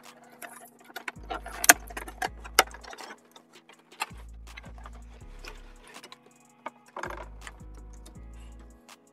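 Cardboard packaging of a Beyblade Burst Pro stadium box being torn open by hand, with crisp rustling rips and three heavy thumping bursts of handling spaced through the stretch, close and fairly loud with no speech.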